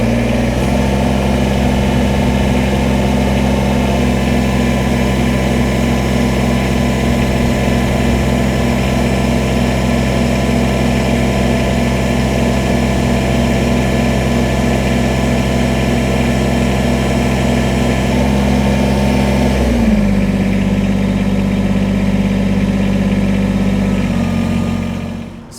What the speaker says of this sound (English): gonna rev it up to full revs.